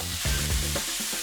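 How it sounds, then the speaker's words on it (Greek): Salted brine-cured food with cherry tomatoes (almyra) being stirred and sautéed in a frying pan, giving a loud, close sizzle with scraping stir strokes, no voices. "Ανακατεύουμε για 1 με 2 λεπτά να σοταριστούν"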